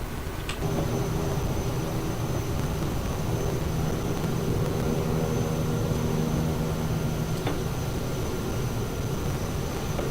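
An airliner taxiing in a flight simulator game on a flight from Zakynthos to Malta Luqa gives a steady, constant engine drone with a faint high whine, unbroken for the whole stretch.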